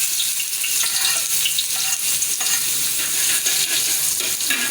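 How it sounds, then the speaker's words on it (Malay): Garlic frying in a pan for kuey teow sauce, a loud steady close sizzle with stirring scrapes throughout. "untuk kuah dia kita tumis bawang putih"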